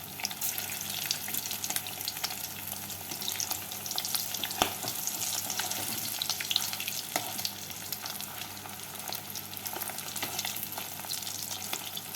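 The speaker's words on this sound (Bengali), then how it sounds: "তেলটাকে ভালো করে গরম করে নিয়ে গ্যাসটাকে মিডিয়াম ফ্লেমে রেখে কোপ্তাগুলোকে ভেজে তুলে নেবো" Egg koftas frying in hot mustard oil over a medium gas flame: a close, steady sizzle and crackle throughout, with one sharp clink from stirring midway.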